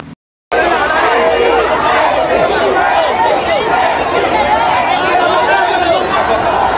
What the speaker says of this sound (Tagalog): kung gaano ang hiyawan ng tao, maririnig natin